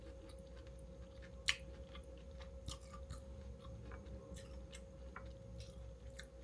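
Crunchy bites and chewing of a cheesy baked farro and chicken dish with fresh basil, close and quiet, a sharp crunch early and softer chewing clicks scattered through a low steady hum.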